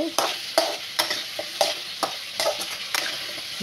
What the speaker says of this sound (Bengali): ভালোভাবে সুন্দর করে আমি কষিয়ে নিচ্ছি